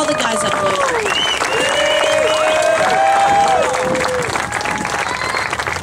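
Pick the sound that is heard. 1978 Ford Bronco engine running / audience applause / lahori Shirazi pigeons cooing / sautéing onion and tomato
audience applause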